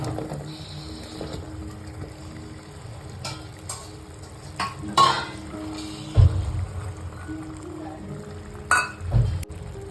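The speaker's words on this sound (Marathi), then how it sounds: "आता आपण याच्यामध्ये बटाटे टाकणार आहोत आई बटाटे आणि वटाणे" Potatoes and peas go into a frying masala in a dhaba-style aloo matar curry, a low simmering hiss broken by several louder splashing, scraping stirs toward the end.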